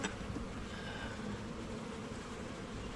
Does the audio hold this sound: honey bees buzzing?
yes